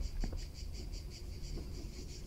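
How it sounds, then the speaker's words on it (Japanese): Cicada chirping in the horror game The Ghost Train, a faint, regular pulsing buzz repeating about every tenth of a second over a low background rumble, with no voices. "セミ、セミの音する"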